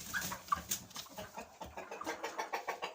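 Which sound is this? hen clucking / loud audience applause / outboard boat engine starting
hen clucking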